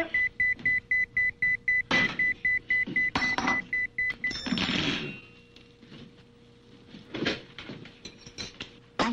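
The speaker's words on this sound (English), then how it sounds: "I hear beep, beep, beep" A fast train of sharp electronic beeps repeats evenly, then breaks off amid clattering and rustling, and a few scattered beeps return near the end. No one speaks.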